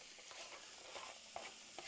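Steady broadband sizzle of vegetables sautéing in a pan, with a few soft clicks of a utensil moving through them. No voices.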